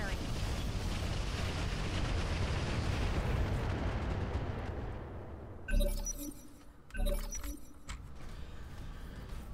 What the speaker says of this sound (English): Let's drop some missiles on this carrier.